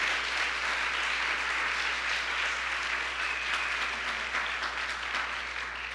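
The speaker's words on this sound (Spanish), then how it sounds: "Denle una ofrenda de palmas fuerte a ese Dios poderoso." A church congregation breaks into loud, sustained applause, a dense, even roar of many hands clapping together that holds steady throughout without any voices standing out.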